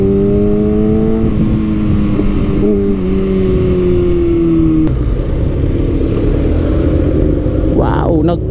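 A heavy motorcycle rides along on a hot sunny day, its engine droning steadily with a gear change partway through, close and loud, with wind rush and a voice talking over it.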